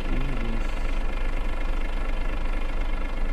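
In World Truck Driving Simulator, a truck engine idles with a constant, even mechanical drone that stays steady for the whole stretch, with a brief tonal blip near the start.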